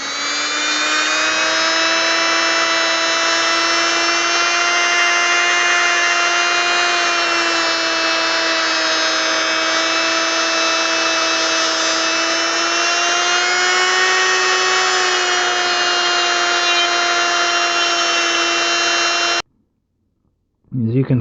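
A small hobby drill fitted with a sander attachment grinds against plastic with a steady, loud, high-pitched whine that holds for about nineteen seconds before cutting off abruptly, followed by a brief burst at the end.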